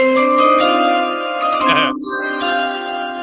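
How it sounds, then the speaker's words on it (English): Bright bell-like draft announcement chime with ringing tones and a tinkling glassy shimmer, loud and close, sustaining for about three seconds with a brief dip partway through. "Let me get the chime."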